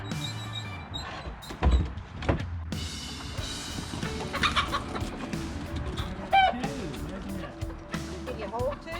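Hens cluck and squawk nervously nearby amid people talking, with a couple of thumps and rustling movement in the background.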